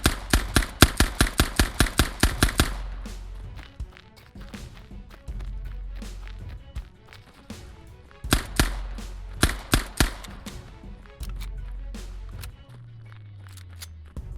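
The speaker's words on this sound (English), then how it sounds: "The C96 Mauser, known as the broom handle." Rapid gunshots from a C96 Mauser broom handle pistol in the World War II shooter Postscriptum, loud sharp cracks fired in quick bursts with clicks and handling noises between the volleys.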